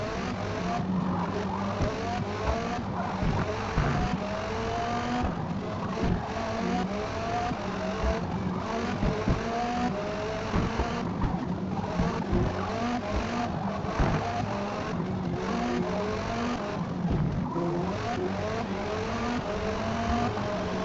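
Several race car engines roar and rev continuously in Forza Motorsport, with dense overlapping gear shifts and occasional tire squeal from a close pack of cars, loud and unbroken throughout.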